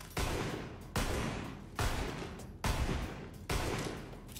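Gunfire in Borderlands 3, five heavy shots at a slow, even pace about one second apart, each a sharp loud blast with a decaying tail.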